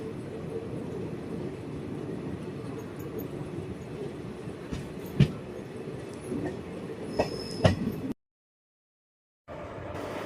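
A Punalur–Madurai Express train rolls along with a steady low rumble and clatter, heard from inside a crowded general coach, with faint wheel squeals and a few sharp clanks before the sound cuts out briefly and resumes.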